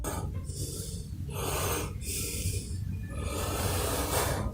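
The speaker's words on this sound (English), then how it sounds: "He's like breathing super hard." Heavy, rhythmic breathing with loud, raspy inhales and exhales, close up, repeating in slow cycles.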